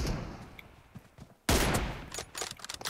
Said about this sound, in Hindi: ओह शॉट क्यों नहीं लगी मेरी?